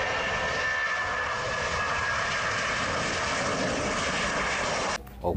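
A toy airplane model, a Garuda Indonesia jet, gives off a steady electronic engine whine and hum that holds constant and loud, then cuts off abruptly near the end.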